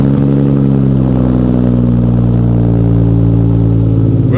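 Nissan Skyline GT-R engine and exhaust on the stock muffler before a Valvetronic install, a loud, steady, deep idle drone with strong low harmonics held evenly throughout, no talk.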